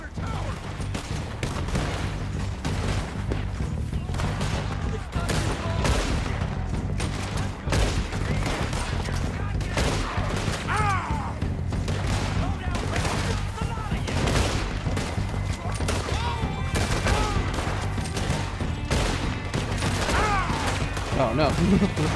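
Dense, continuous gunfire from a Red Dead Redemption 2 shootout, with sharp shots and bursts crowding together over a steady low rumble and game sound for the whole stretch, with talk mixed in.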